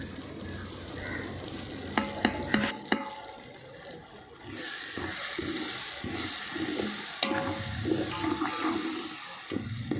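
Ginger garlic paste and masala sauté in oil in a pan for chicken or beef biryani, giving a steady close sizzle broken by a few sharp metallic clinks of stirring.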